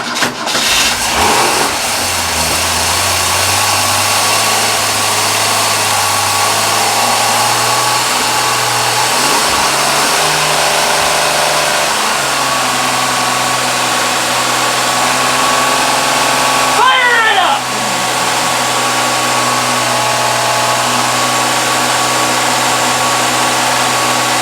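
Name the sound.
Ford 200 2V engine first start with Holley Sniper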